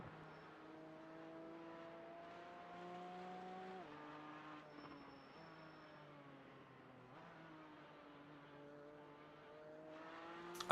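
A GT4 race car engine on the Nordschleife in the iRacing sim drones steadily through a run of gears, pitch climbing and dropping at each shift, fairly quiet and alone without talk.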